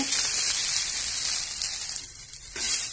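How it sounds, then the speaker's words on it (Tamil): Garlic and curry leaves sautéing in a little oil, a close, continuous hissing sizzle with a brief dip before flaring back up. "பூண்டு, கருவேப்பிலை, கொஞ்சமாக ஆயில், செவக்க வணக்கியாச்சு"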